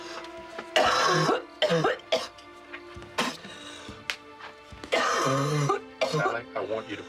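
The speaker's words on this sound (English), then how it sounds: "you're coughing this crap up all over the place" Repeated harsh coughing and throat clearing in several close bursts, interspersed with short pauses and breathy sounds.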